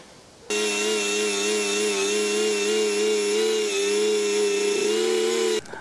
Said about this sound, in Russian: А болгарка быстро.